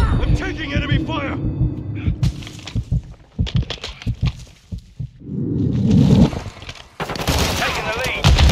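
Enemy gunfire in Modern Warfare 2 arrives as rapid bursts and scattered shots over engine rumble and loud battlefield noise, with voices speaking over the fighting.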